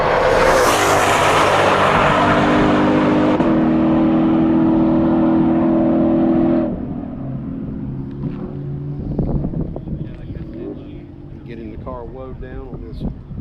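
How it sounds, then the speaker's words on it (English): Ford Mustang GT500 race car roaring past on a long, fast straightaway at NOLA, loud and wind-buffeted at first, then the engine note drops off sharply as it pulls away, leaving quieter background noise and a voice. "You're waiting Billy in the GT500. Here he comes right now."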